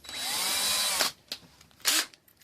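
A drill whirs steadily for about a second while drilling a hole during a pedestal fan repair, then gives two shorter bursts, close and fairly loud, with no one speaking.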